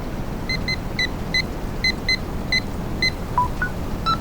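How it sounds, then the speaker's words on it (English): Inside a storm-chasing vehicle, a chime resembling a phone charger being plugged in sounds as a series of short, evenly spaced high beeps over a low steady car rumble, ending with a few lower-pitched tones. "I like how there's a phone charger plug-in sound there as well, like when you plug your phone in"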